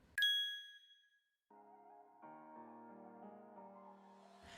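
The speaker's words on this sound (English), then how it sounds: "Let's start with something that quietly interrupts every Mac user: notifications." A single bright notification ding on a Mac rings out and decays, followed by a soft sustained chime-like tone that continues to the end; no talking.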